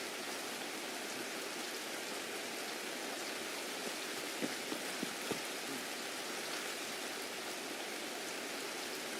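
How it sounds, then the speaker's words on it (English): Steady rain falls in Escape From Tarkov, a dense even hiss of drops hitting the ground throughout, with a few faint soft thuds partway through. "This rain, freaking awful."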